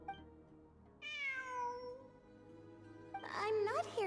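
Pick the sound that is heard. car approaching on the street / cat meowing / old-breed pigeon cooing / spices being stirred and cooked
cat meowing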